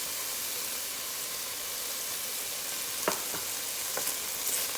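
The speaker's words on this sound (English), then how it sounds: "just give that a stir around" Shrimp and grits being cooked with Cajun seasoning stirred into a steady, hissing pan, a close continuous sizzle with a few soft scraping stir sounds near the end.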